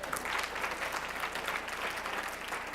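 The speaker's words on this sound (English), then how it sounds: "give them a nice round of applause for helping out" A summit audience applauds volunteers who came up to help, a continuous crowd clapping heard at a distance, steady and fairly faint with no voices over it.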